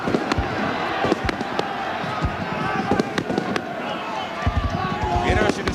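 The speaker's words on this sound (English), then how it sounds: "Still listen to the fireworks above here" Fireworks burst over a rugby league stadium during a 1990 Illawarra Steelers versus Canterbury-Bankstown Bulldogs match, sharp pops and cracks scattered throughout beneath a commentator's voice and a steady crowd murmur.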